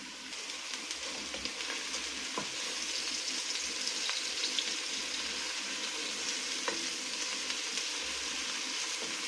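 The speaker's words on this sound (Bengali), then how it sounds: "আমি এখানে আদা আর রসুন দিয়ে দিব" Ginger and garlic added to chicken fry in a pan with a continuous moderate sizzle, broken by occasional clicks and stirring scrapes over roughly nine seconds, with no voices.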